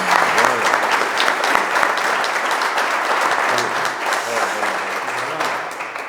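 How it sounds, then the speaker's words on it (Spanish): An audience at a cultural lecture about processions breaks into sustained applause, dense and even, holding steady for several seconds in a hall. "Pido un aplauso por todos los que nos dejaron."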